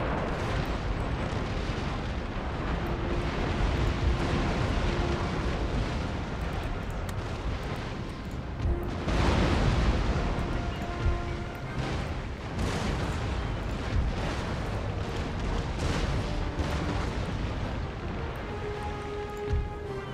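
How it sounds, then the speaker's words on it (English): Ship cannons firing broadsides in a huge fleet battle in Empire: Total War, a dense continuous rumble of overlapping booms and blasts, loud and sustained, with crackling impacts throughout. "keep firing at will into Calera"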